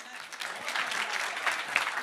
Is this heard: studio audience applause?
yes